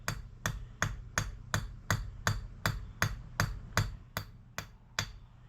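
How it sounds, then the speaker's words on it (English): A small hammer taps an oiled dowel into a light press-fit hole on a Honda Goldwing cylinder head, about fourteen crisp, evenly spaced taps, close and moderately loud, slowing slightly toward the end. "I've yet to damage anything with this little hammer."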